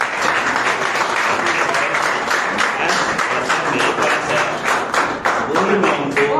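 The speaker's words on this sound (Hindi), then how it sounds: "तालियां।" Students give a long, sustained round of applause for a mathematics teacher in Karnal, sharp dense clapping close by with a voice occasionally beneath it.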